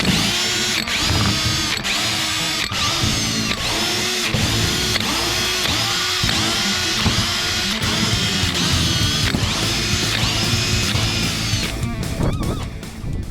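A Chicago Pneumatic air tool with a one-inch stroke runs loud and continuous, a harsh buzzing hammer with rapid pulsing and brief dips, used while working on a 1957 Chris Craft boat restoration.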